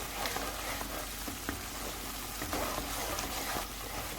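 Ground spices fry in a pan for achari bhindi, giving a steady, fine crackling sizzle with small pops and no talking.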